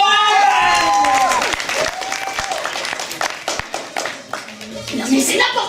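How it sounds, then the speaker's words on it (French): Applause from an improv show audience rises over lingering crowd chatter and cheering, with scattered claps thinning out as the clapping fades under continued talk. "on peut les applaudir"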